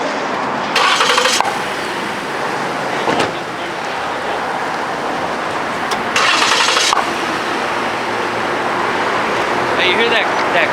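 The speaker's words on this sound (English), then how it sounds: "you hear that clap when they turn the car on?" A car engine starts with a sharp clap outside a Bakersfield post office, two clearly separated bursts of noise over steady outdoor rumble and traffic.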